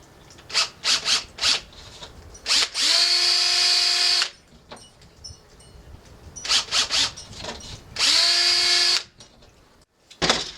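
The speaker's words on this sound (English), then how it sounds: "all I have to do is drill out those holes" A power drill whines in short bursts and two longer sustained runs, drilling holes for a limb quiver, loud and close, with brief gaps of quiet handling noise between.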